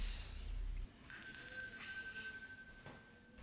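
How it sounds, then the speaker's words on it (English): A single bell is struck once and rings out clearly, its bright tone slowly fading over faint background noise. "Why else would the bell ring?"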